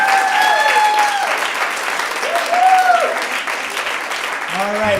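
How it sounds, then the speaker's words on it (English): A congregation at a Purim celebration applauds the choir, steady clapping filling the room while whoops and cheering voices rise above it and a few people speak. "Give a round of applause to the choir."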